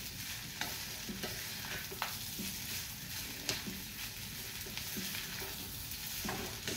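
Egg and rice being stir-fried in a wok make a loud, continuous sizzle, with repeated scraping and tossing of the spatula against the metal at an uneven rhythm; no voices.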